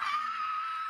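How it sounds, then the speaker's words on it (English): A single sustained, high-pitched scream holds steady for about a second, fairly quiet and thin, with no talk around it. "a dramatic scream."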